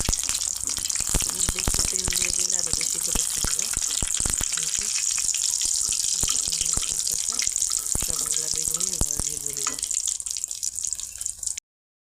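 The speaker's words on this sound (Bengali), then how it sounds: "এখন হচ্ছে বেগুনি ভেজে নিব বেগুনিগুলো ভেজে নিব" Eggplant fritters (beguni) deep-frying in oil for an iftar meal give a steady, close hiss of bubbling across the whole stretch, with faint voices and a few clicks underneath.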